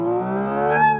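Emulated engine sound from a Hyundai Ioniq 6 N electric car under full-throttle acceleration, a loud steady harmonic drone that rises slightly in pitch toward the end, heard alone without talk.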